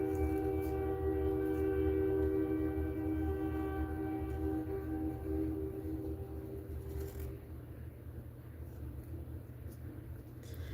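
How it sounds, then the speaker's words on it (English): A train passes on nearby tracks with a low, continuous rumble, and a long horn tone fades out partway through while the rolling noise carries on. "I live by train tracks and I hear the train coming."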